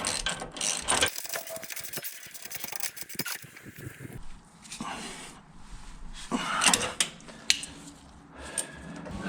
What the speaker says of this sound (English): 19 millimeter socket, as well as a 19 millimeter wrench, because you're gonna have to tighten it